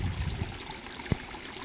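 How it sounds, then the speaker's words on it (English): Water trickles and splashes steadily from a garden pond waterfall clogged with algae, a soft continuous wash heard close by, with one brief knock partway through. "I've got to clean my waterfall out"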